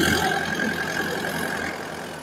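A Mahindra Xylo with an Eagle engine runs close by, a steady mid-low engine drone with a slight swell at the start and an even hum after it, no talk.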